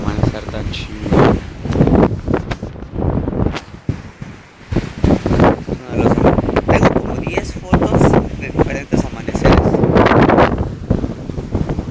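Strong wind blows at sunrise at a Cancun resort, buffeting the microphone in loud, rough gusts over twelve seconds while someone talks throughout.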